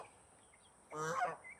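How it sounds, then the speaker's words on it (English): A goose on a garden plot near watermelon beds gives a single short honk, close but quiet, after a moment of near silence. "That goose is being silly too."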